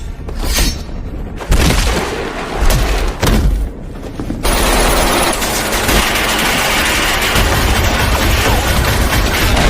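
Soldiers in a film open fire all at once, heavy gunfire and booming blasts crashing in bursts before merging into a dense, continuous roar of shooting and explosions, loud and close with no speech.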